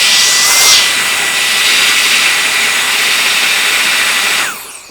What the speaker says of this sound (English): that is the highest power duster for this size that I've used to date